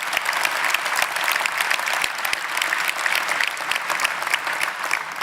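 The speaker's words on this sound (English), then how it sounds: "give him a round of applause." Loud, sustained applause from a crowd, dense clapping filling the whole stretch without letting up.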